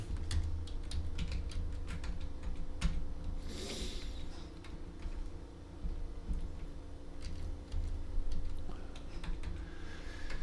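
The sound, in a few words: typing on a computer keyboard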